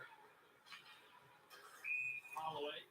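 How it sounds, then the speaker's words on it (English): A referee's whistle sounds during an Edmonton Oilers versus Los Angeles Kings ice hockey game: one short, shrill blast stands out against quiet arena background noise. "That's offside. A lot of whistles."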